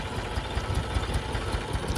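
Tractor engine running steadily while ploughing a weedy field after rain, a continuous low rumbling drone with a slight rhythmic throb, close and moderately loud with no voices.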